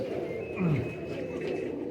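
High-flying pigeons kept on a rooftop coo in continuous low murmurs, with one louder swelling coo near the middle and a faint voice mixed in.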